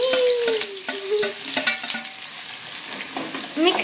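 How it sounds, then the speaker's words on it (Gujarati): Chopped vegetables and cumin seeds fry in hot oil while being stirred, a steady sizzle broken by several sharp scrapes and knocks of the spoon against the pan, with no talking. "તેલ આવી ગયું તો પહેલા થોડુંક જીરું નાખી દઈએ, અને પછી છે ને કટિંગ કરેલા શાકભાજી બધા એક હારે જ નાખી દઈએ"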